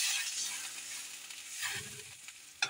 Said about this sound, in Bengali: গরম জল দিয়ে দেবো।